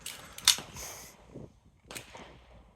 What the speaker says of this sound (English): load the mag to 20 or 21 rounds, or load it fully, then drop it on concrete